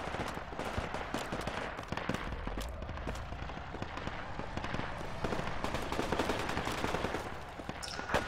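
Dense, continuous rattle of rifle and automatic gunfire in the military shooter Project Reality, many overlapping shots cracking at near and middle distance with no pause throughout.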